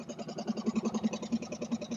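A racing lawnmower engine idles close by on its own, a steady, even putter of rapid regular pulses that holds the same pace throughout.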